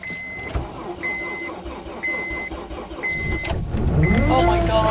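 A 2003 Honda Civic with a freshly replaced starter cranks at length while a steady chime beeps, then catches and revs up loudly near the end, with voices in the background.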